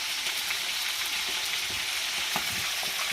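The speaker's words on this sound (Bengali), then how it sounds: "আমাদের রোস্টগুলো সুন্দর করে ভেজে নিচ্ছেন তেলে দিয়ে" Pieces of meat roast fry in oil with a dense, continuous close-up sizzle, loud and even for a few seconds, with no voices.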